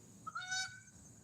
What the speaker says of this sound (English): there goes some Canadian geese flying over to the Dennard Lake over there to land